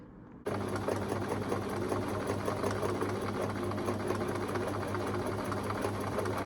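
A sewing machine stitches a hand-rolled hem on fabric cut on the bias, starting abruptly and then running steadily and close up, with a continuous motor hum and rapid needle rhythm throughout.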